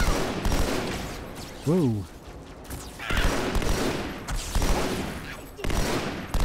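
Battle rifle gunfire in the video game Halo 2, coming as repeated bursts of shots with a voice speaking briefly over the combat.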